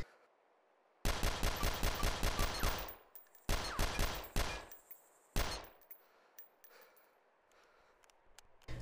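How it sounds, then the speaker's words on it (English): A DayZ secondary weapon fired on semi-automatic as fast as possible: a quick string of loud, sharp shots in rapid succession, then a second shorter burst, a few isolated shots and fading echoes in a quiet game setting. "I'm going to shoot as fast as I can with semi-automatic."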